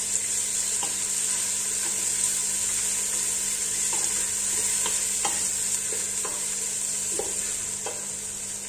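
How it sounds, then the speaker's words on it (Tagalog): Onions frying in a pan while being browned for maqroovah, an Arabic oatmeal porridge: a steady, even sizzle throughout, with scattered soft stirring clicks and taps from a utensil, close and continuous without speech. "Antayin lang po natin mag-brown ng kaunti ang ating sibuyas."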